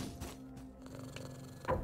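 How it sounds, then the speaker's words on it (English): A cat purring in the dark retro-styled action game Moonscars, a soft, steady low rumble throughout, quiet and close, with a brief thump near the end. "Kitty cat!"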